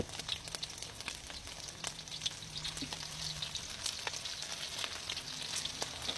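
Steady crackling sizzle of pork-stuffed banana peppers frying in hot oil in a pan, with occasional sharper pops and spatters, continuous and fairly close throughout.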